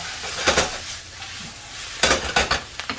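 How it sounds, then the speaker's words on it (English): Scallops searing in a hot pan, giving a steady sizzle broken by a few sharp clanks and scrapes of a utensil against the pan, with no one talking. "I'll put this back on the heat because I want to get those scallops going"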